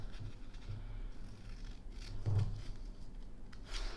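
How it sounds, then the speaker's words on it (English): Scissors snip through a paper bodice pattern along a dart line, giving a few soft, close scraping cuts over low background hum, with no talking. "I'm going to cut the new dart line first"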